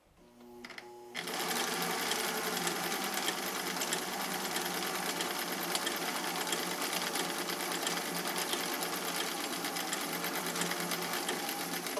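Home sewing machine stitching through fabric, a steady fast needle rattle that starts after a brief hesitation and runs loud and continuous to the end.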